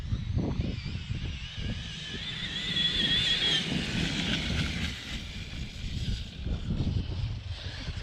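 A Primal Raminator RC car with a brushless 12s conversion running at full throttle, a steady high motor whine with rushing tire and wind noise, rising and falling as it passes at moderate distance.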